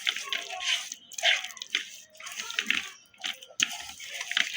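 Hands mix ginger paste and spices into beef for nihari, giving faint wet squelching and slapping in uneven bursts, close and quiet.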